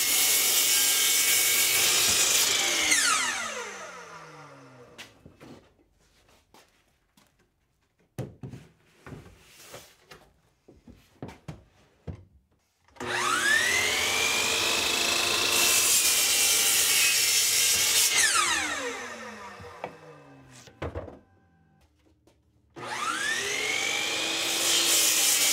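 Miter saw slicing wood pieces to length at a workshop miter station, two long loud whining cuts with the motor spinning up and winding down, separated by quieter clicks and handling knocks.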